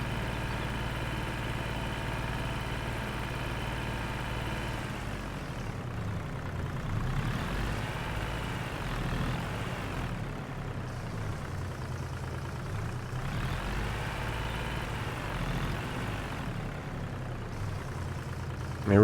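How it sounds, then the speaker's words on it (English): A tractor engine idles steadily in Farming Simulator 22, a low continuous drone with a faint hum, holding at an even level throughout without any talk over it. "We'll just leave the tractor here."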